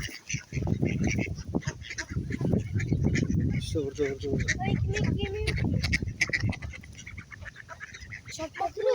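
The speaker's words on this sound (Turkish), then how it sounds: "Evet arkadaşlar bir sürü ördek var burada." Ducks quack and honk nearby amid a noisy flock while people talk over them outdoors.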